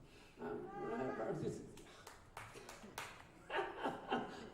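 Scattered clapping and laughter rise from a small audience at a comedy open mic night, with sharp claps coming in short bursts between voices.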